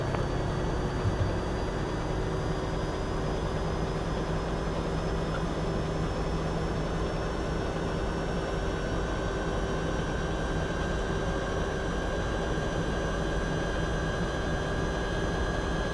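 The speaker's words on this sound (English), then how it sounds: "the sounds on this plane are not the best" The MD-11 airliner's engines in the X-Plane 11 flight simulator give a steady, continuous drone with constant tonal whines layered over a broad rumbling hiss, unchanging and with no talking.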